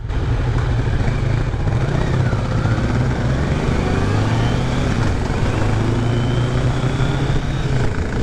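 A 2023 Kawasaki Z900 naked motorcycle pulls away from a stop and shifts from first to second gear, its engine rising in pitch through the gears. Steady, loud, close-up engine sound with wind rush.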